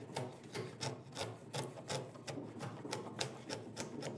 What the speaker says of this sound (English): If the wood is too thick here, just raise your chisel a little and use it as if you were planing